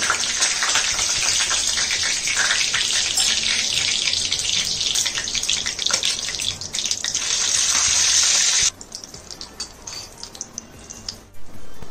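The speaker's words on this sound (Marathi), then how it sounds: "आता मी यावरती फोडणी घालत आहे." Cumin seeds dropped into hot oil for a tempering over fasting dhokla crackle and hiss loudly and steadily for several seconds, then cut off to a softer, sparser sizzle near the end.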